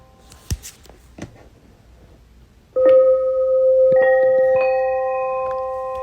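A sleep sound machine rings a bell tone after a few soft taps, with several struck notes layering into a sustained, slowly fading harmonic ring.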